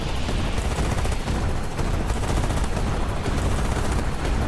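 A gimbal gun in a video game fires a dense, unbroken stream of rapid shots, loud and continuous throughout, with crackling reports layered over one another.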